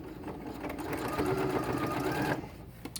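A sewing machine runs a quarter-inch seam joining quilt panels, a close, fast, even mechanical whirr that builds for about a second and a half before stopping, with light clicks around it.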